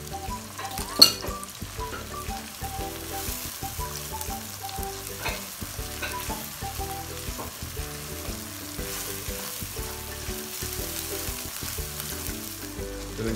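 Garlic ginger paste sizzles in hot oil for keema, a dense continuous crackle with frequent stirring scrapes and one sharp clatter near the start, close and loud throughout.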